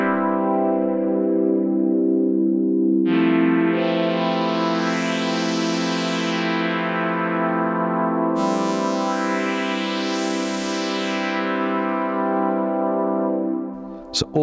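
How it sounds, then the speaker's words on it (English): Two detuned oscillators on a synthesizer hold a buzzy sustained tone, brightened by added filter resonance that sweeps up and back down twice, played alone and loud until a click at the end. "Adding a bit of resonance there makes it more synthy."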